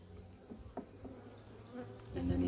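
Honeybees buzz at a weak beehive, a close, steady droning hum that swells louder toward the end, with no voices.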